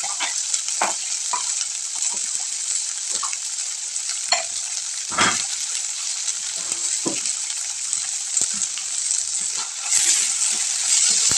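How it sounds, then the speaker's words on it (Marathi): Cluster beans fried straight in hot oil in a pan give a steady, close sizzle throughout, with occasional clicks and scrapes as they are stirred; no one speaks. "मी डायरेक्ट असंच तेलामध्ये टाकते आणि थोडा वेळ जास्त वेळ तेलामध्ये भाजून घेते"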